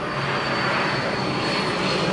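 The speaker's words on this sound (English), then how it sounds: "As you hear the helicopter going over" Aircraft passing overhead near a home garden about 2 miles from an airport, a steady broad engine roar that holds at even loudness throughout with no talking.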